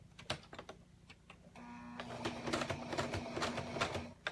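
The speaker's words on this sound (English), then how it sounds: "So I'm just going around the zigzag with a zigzag stitch around the curve." A sewing machine zigzag stitching around the curve of a crossbody messenger bag: quiet, rapid mechanical chattering in short bursts, then a steadier run of whirring stitches, close by with no voices.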